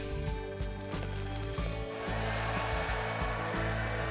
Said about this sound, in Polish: Stylistka zaczęła suszyć włosy suszarką